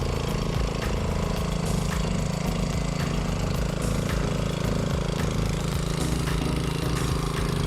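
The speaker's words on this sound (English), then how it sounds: "it's a good idea to run the engine a few minutes to get it warmed up" Briggs and Stratton engine on a Craftsman R140 riding lawnmower idles steadily up close, a continuous low rumbling chug with a constant tone throughout, alone with no talking.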